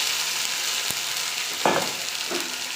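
Ground paste of dried red chili, ginger and cumin frying in a pan, a constant close sizzle with a couple of brief stirring scrapes.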